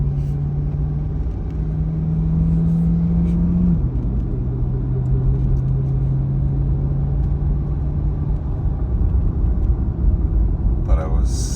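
Corvette C8 E-Ray V8 running in Charge Plus mode holds a steady low drone while driving, with one small step down in pitch partway through and a constant road rumble underneath.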